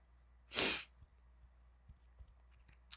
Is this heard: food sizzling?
no